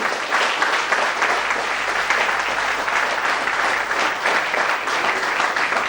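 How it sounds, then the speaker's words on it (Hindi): Sustained, loud applause from an audience filling a hall at an IAS felicitation function, a dense, steady wash of clapping with no pauses and no voices over it. "हम लोग इस हाल को तालियों की आवाज से गूंज दें।"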